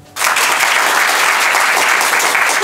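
Applause from a live improv theatre audience, a dense, steady wash of clapping that starts abruptly and holds loud and even throughout.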